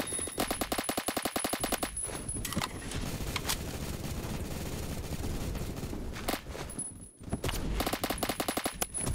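Gunfire in the video game Phantom Forces: rapid automatic bursts crackle loudly at the start and end, with a quieter stretch of game ambience between them.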